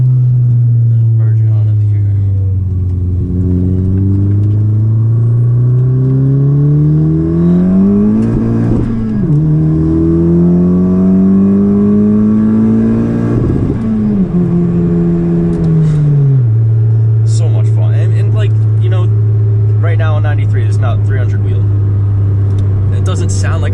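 A modified 10th-generation Honda Civic Si with a 1.5-litre engine pulls hard from inside the car, its loud, close engine tone climbing through several gear changes before settling to a steady drone, with a voice speaking over it.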